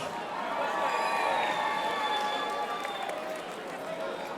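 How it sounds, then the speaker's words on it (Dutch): Audience at a televised youth talent show finale gives a duo applause and cheering, a steady wash of clapping and crowd noise held at an even level throughout. "Dan mag ik nog één keer een heel groot applaus voor Duo Ik en Dich."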